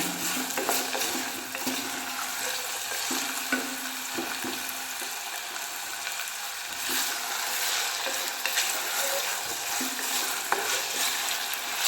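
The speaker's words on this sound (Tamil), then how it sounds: "இதை நல்லா ஃப்ரை பண்ணிடுங்க." Amla fries and sizzles in hot oil in a pan, crackling steadily under intermittent stirring and the occasional scrape of a spoon against the pan, close and fairly loud with no talk.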